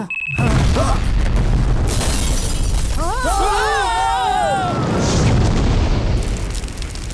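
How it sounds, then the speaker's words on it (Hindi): A bomb blast at a village centre, a loud close boom with shattering debris that fills the whole stretch, overlaid with a rising wailing tone partway through. "रंगाबली सेंटर में हुआ बॉम्ब ब्लास्ट।"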